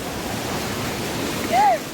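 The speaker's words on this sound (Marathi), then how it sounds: "ओ, मोठी लाट आली मोठी लाट आली" Surf on a rocky Konkan beach at Malvan, Sindhudurg, with a big wave breaking at the shore during shellfish gathering at high tide: a steady broadband wash of water that swells briefly louder near the end.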